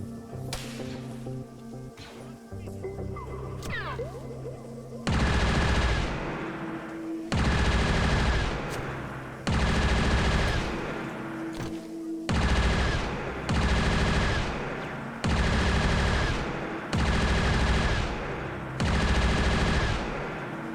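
Bursts of automatic gunfire from a heavy weapon in an open-world Mandalorian Star Wars game, loud and close, firing in repeated two-second volleys separated by short pauses, with quieter ambient game sounds at the start.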